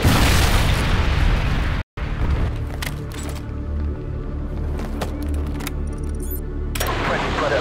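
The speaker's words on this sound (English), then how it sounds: "Friendly Predator missile inbound." A Predator missile explosion in Call of Duty multiplayer lands as a loud, continuous roar of blasts and rumble, with a brief dropout, then crackling game effects and gunfire layered over the sustained din.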